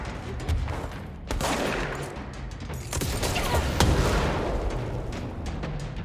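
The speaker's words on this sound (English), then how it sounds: "you're using shotguns at this range" Shotgun gunfire in the video game Control: dense, rapid blasts and booms overlap in a continuous barrage of combat noise, loud and close, with scattered sharp cracks throughout.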